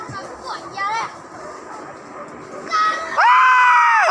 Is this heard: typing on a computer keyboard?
no